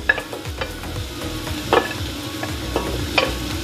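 Onions and garlic sautéing in a pan for paksiw na pata, a continuous close sizzle with occasional clacks and scrapes of a stirring utensil.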